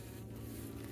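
A close, continuous honeybee buzz drones steadily for a moment during hive transport, like a bee hovering right near the ear.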